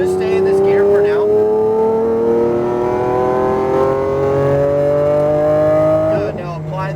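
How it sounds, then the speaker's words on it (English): A Lamborghini Aventador accelerating hard on a race track, loud engine note climbing steadily in pitch for several seconds before easing off, heard from inside the car, with an instructor talking over it. "Straightening out that wheel, put the power down, and let's go."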